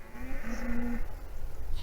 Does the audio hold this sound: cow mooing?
yes